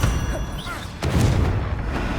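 Bombarda spell explosion in the Hogwarts Legacy video game, a deep booming blast that hits sharply around the middle and rumbles on afterward, loud and close, with a faint voice just before it.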